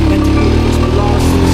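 An off-road motorcycle on a Moroccan bivouac trip is revved hard on the throttle, a loud, steady engine roar up close for the whole short stretch.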